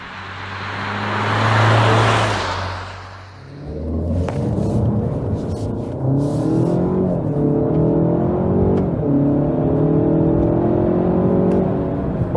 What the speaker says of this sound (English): So that was acceleration to 100 kilometers or 62 miles an hour